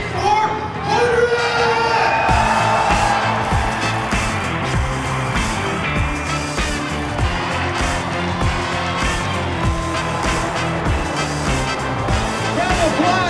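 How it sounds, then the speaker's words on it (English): Crowd cheering and shouting at the Mint 400 pit crew challenge, where three-man teams race tire changes with a jack and impact gun, a steady loud roar of voices with whoops and mechanical clatter, with someone talking over it. "Well, cheer him on, crowd."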